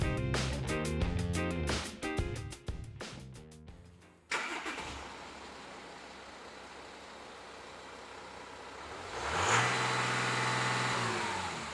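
A Volkswagen Amarok 3.0 TDI V6 diesel engine cranks and starts with its silencers removed, then idles loudly and raw without muffling, with a rising rev near the end.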